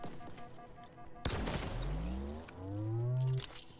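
A grenade detonates in the Halo Infinite shooter with a sudden loud burst, followed by a sweeping, rising electronic whine and low rumble that swell and fade over a few seconds, over a busy game-music background.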